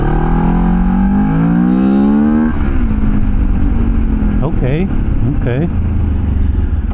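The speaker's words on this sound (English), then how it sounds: "at initial takeoff, letting the clutch out, I felt like the bike just pulled easier right away" A regeared motorcycle pulls away from takeoff, its engine rising in pitch, dropping at a shift and climbing again through quick gear changes, loud and close under wind noise, with a brief spoken word.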